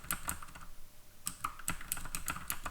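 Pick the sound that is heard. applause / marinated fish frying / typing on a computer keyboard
typing on a computer keyboard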